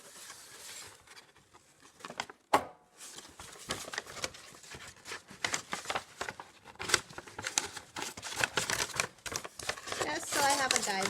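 Scissors cut down the side of a paper bag along its fold, giving a series of crisp crinkling snips and rustles in uneven bursts, close and fairly quiet, with a person speaking in between.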